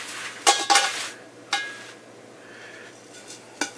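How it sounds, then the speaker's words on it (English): Spices for ham sausage being mixed in a bowl, heard as a few sharp clinks and scrapes of utensil against dish, separated by quiet pauses. "Now I want to mix my spices a little bit and just put it in"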